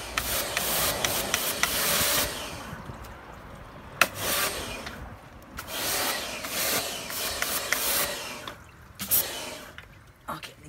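A pressure spray gun rinses degreaser off a car engine bay in repeated bursts of harsh water spray, starting and stopping irregularly, close and fairly loud.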